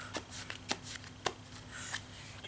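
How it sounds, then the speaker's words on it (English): Buddyfight trading cards shuffled a few times, giving several quick crisp riffling bursts in a quiet room, close and soft. "Let's say we shuffle it a few times."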